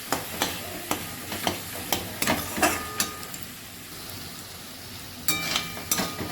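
Spice masala fries in oil that is starting to separate, with a spatula scraping the pan in a regular rhythm over a constant sizzle. The strokes pause briefly midway, then resume.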